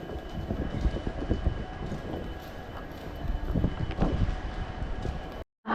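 A Santragachi–Digha passenger train rumbles steadily with a dense low roar and rattling, close by and continuous, then cuts out abruptly near the end.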